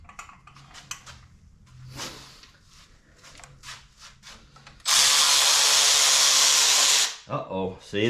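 A power tool runs bolts in on a 1953 Chevy 3100 pickup during an LS engine swap, a loud steady whir of about two seconds after scattered clicks and handling noises, with a brief voice afterward.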